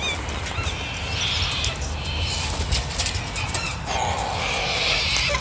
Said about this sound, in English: you're all just chaotic wee little birdies